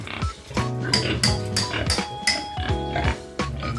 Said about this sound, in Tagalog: Ayun na po yung baboy.